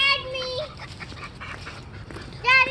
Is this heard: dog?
yes